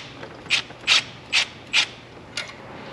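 Four evenly spaced raspy ratcheting bursts as a fastener is snugged up while fitting aftermarket car parts, close and fairly crisp over a quiet background, followed by a fainter fifth click.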